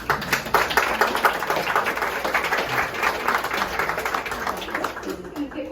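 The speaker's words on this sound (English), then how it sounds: "we'll hold the applause until I say all of them" Audience applause at a gathering at Norman Studios in Jacksonville, Florida, a continuous dense clapping from many people in a room, steady and moderately loud throughout with a faint voice mixed in.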